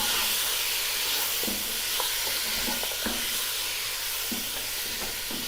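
Roughly chopped tomatoes cook in a pot for mutton yakhni pulao, giving a soft, continuous sizzle and steamy hiss. Scattered light clicks and scrapes of stirring come at irregular intervals.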